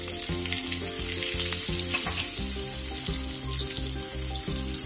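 Chillies with turmeric, chilli and coriander powders frying in half a tablespoon of cooking oil in a pan for chicken curry, a dense close sizzle over a steady rhythmic low hum, no talk.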